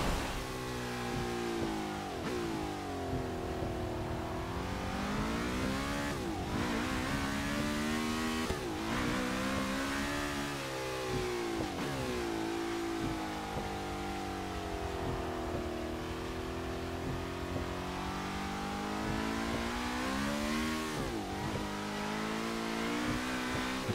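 A Lotus 67 race car engine rumbles and revs continuously at Brands Hatch in the rain, loud and close, its pitch rising and falling as the throttle opens and eases.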